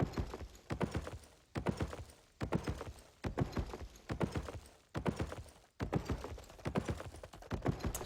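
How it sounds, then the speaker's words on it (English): Horse hooves clip-clopping in the online fantasy game Albion Online, a quick, steady run of hoofbeats in repeated bursts, fairly close and moderately loud, with no talking over them. "So those horses are much faster."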